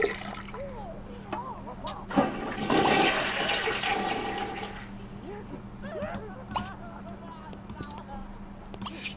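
A toilet flushes in The Sims 2 after a sim pees, with one surging rush of water that fades into a softer trickle and refill.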